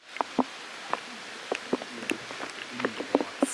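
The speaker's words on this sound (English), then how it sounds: "Started raining. It's pouring." Rain falls on a campsite in the Montana mountains, scattered drops ticking and tapping sharply on nearby surfaces over a soft, steady patter.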